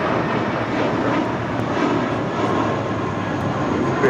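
A Spirit Airlines jet at LAX airport roars as a steady, loud, broadband engine wash that holds even throughout, with no voices over it.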